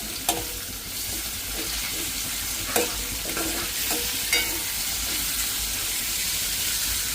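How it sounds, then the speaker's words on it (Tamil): Tomatoes sautéing in hot oil in a home kitchen for a Sunday feast: a steady close sizzle with a few sharp clinks and scrapes of a stirring spoon against the pan, no talking. "கொஞ்சம் தக்காளியும் போட்டு நல்லா வதக்கி விடுவோம்"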